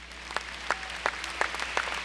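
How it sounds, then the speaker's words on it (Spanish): During a church sermon, a congregation claps in a steady beat, about three claps a second, fairly quiet and spread across the room over a low background hum. "vamos a dar un aplauso a los que están pasando"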